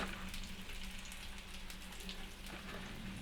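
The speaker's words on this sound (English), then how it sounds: "I want to make a little bit of room and get my bacon in there" Bacon frying in a pot alongside sausages for a sausage and bean casserole: a soft, steady crackling sizzle with faint pops throughout, fairly quiet and without talk.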